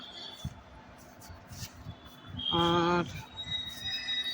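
A Thane-bound train rumbles into the platform with a short squealing, tonal screech of wheels or brakes mid-way, heard at a station amid background noise.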